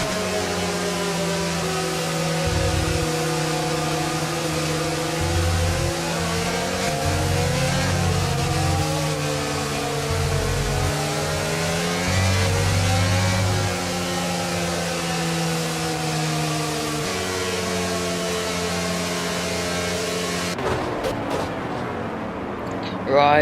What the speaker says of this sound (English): We're almost ready to start the race as the cars take their positions on the grid